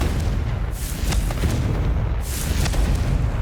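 A Confringo fire spell bursts twice in the video game Hogwarts Legacy, each a loud whooshing blast over steady low rumble, spaced about a second and a half apart with no talk.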